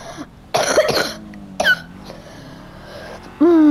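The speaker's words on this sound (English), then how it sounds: "sorry guys, I've got a cough." A person coughing during a Grand Theft Auto V session on PS5: a few sharp, close coughs in quick bursts, with a voice and game sounds mixed in between.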